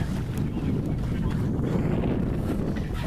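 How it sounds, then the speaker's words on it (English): Steady wind rushes over the microphone aboard a sailboat on Lake Erie in about ten knots of breeze, a constant low roar with no break. "the wind's kind of died off a little bit"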